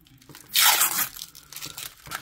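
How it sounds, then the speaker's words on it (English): Packaging tape tearing off a cardboard box that holds a Redragon K673 Pro wireless mechanical keyboard: one loud, rasping rip lasting about half a second, followed by quieter crinkling and scraping sounds up close. "So much tape. Packaging tape, I'm not sure what kind of"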